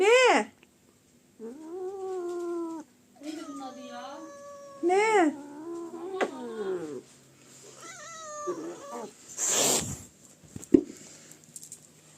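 Cats give a series of repeated, insistent meows, some drawn out and wailing, at close range. A person speaks between the cries and there are a couple of sharp noises near the end.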